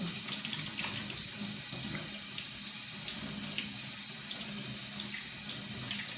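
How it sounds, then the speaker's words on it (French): Hands being washed under a warm running tap, a steady close hiss and splash of water into a sink, continuous and fairly quiet with no talking. "on débute le lavage des mains sans rien toucher d'autre. Pendant 20 secondes minimum avec de l'eau tiède ou de l'eau chaude"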